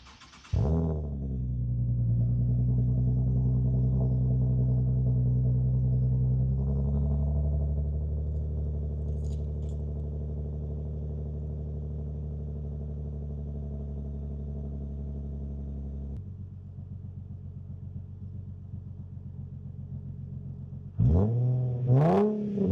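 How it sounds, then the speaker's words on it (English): A Nissan 370Z Nismo engine fires up and settles into a deep, steady exhaust idle, dropping a little lower partway through, then a few quick revs near the end. "The exhaust sounds great, just like I remember it, so I'm gonna do a little startup clip."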